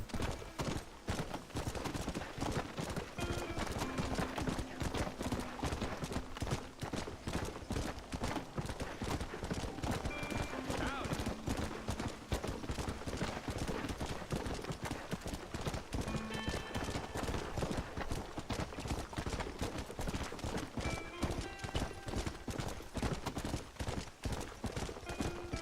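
Steady clip-clop of a horse galloping in Red Dead Redemption, a fast continuous hoofbeat rhythm up close, with occasional brief tonal game sounds and no talking.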